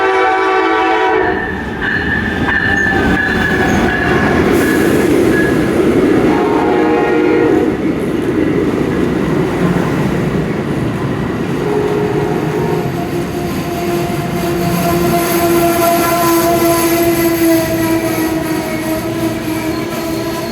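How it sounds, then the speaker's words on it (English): A train rumbles past close by, a steady loud roar with a long horn blast, continuous for about twenty seconds. "the train can come through so fast and just stop on a dime."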